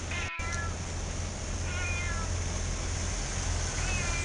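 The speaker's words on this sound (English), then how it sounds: "I guess this little cat's gonna follow me to California" A small stray cat meows a few times outdoors at a truck stop in Arkansas, thin high calls spaced a couple of seconds apart over a constant loud idling engine rumble.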